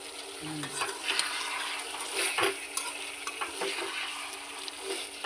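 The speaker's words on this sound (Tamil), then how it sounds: "நல்லா கிண்டி கிண்டி எடுத்துக்கலாம்" Chicken gravy stirred in a pot over heat, a steady sizzle underlying repeated scraping and clinking of the spoon against the metal, close and continuous.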